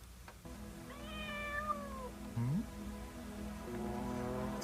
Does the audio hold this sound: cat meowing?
yes